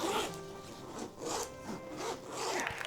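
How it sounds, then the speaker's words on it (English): A tough woven-in zipper on a lightweight travel backpack is pulled back and forth in several quiet, rasping strokes, close up with no talk. "woven-in tough zipper is extremely durable and tougher than your standard zipper"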